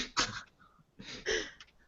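Two sharp, close sneezes about a second apart, each with a quick intake of breath before the burst.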